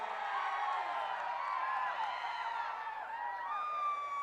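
A large political rally crowd cheering and whooping at a distance, a dense wash of many voices with rising shouts and scattered clapping, steady throughout.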